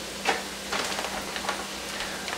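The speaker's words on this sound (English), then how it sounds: "I'm just kind of tossing it in the frying pan and give it a quick fry." Deer stew ingredients fry in a frying pan with a soft, steady sizzle, broken by a few brief louder stirring scrapes and tosses, close and moderately quiet.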